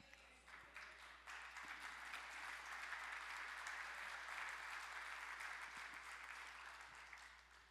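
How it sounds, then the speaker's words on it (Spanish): A church congregation applauds during a Spanish-language sermon, a broad, sustained wash of many hands clapping that swells and holds loudly for several seconds with no talk over it. "Para Dios debe ser más fuerte ese aplauso, mis hermanos."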